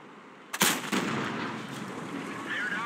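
A World of Tanks tank cannon fires once as a sharp, loud blast, and the boom then trails off into a sustained rumble in the game battle.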